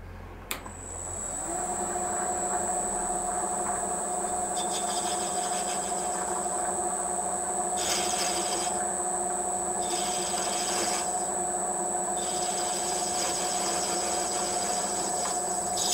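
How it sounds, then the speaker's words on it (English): Counterboring a 3/8 hole on a Meddings drill, a steady machine hum with a high whine that starts up and runs continuously, with intermittent brighter cutting noise mid-way, close and without talk. "I'm going to counterbore it 3/8"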